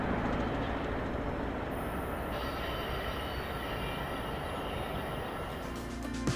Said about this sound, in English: we have a UP intermodal train coming down the hill on the other main track, about to meet the uphill BNSF intermodal train